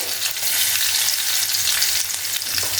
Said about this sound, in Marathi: आता इथे मी ठेचलेलं लसूण आणि मिरची हे घातलेलं आहे